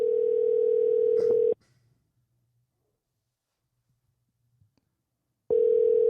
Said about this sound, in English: Let me know when you hit call